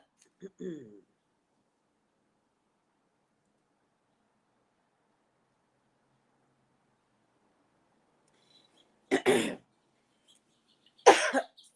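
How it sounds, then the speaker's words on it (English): After a brief vocal sound at the start and a long stretch of quiet, a person lets out two sharp sneezes a couple of seconds apart, close to the microphone. "I feel like sneezing."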